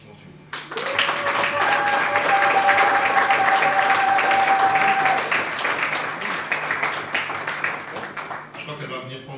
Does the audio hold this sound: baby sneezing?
no